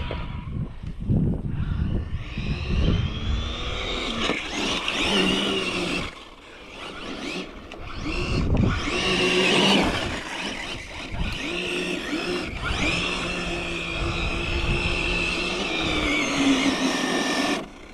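An Arrma Infraction 8S RC car spins its tires in a burnout, its electric motor whining and the tires squealing in loud surging bursts with brief pauses.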